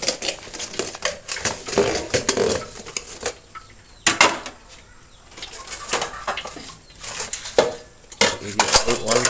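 Many metal plates and cooking pots are scrubbed and washed by hand after a food distribution, with close, irregular clattering, scraping and clanks of metal on metal in uneven bursts.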